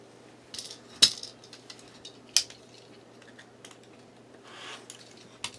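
A rotary cutter trims quilt fabric against a ruler, giving faint, close, quick scraping cuts and small clicks and taps of the ruler, with no speech.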